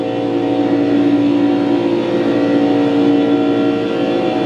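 A race car in a racing video game on the Daytona oval, losing the draft and slowing, gives a steady loud engine drone with no revving or passing cars and no talk.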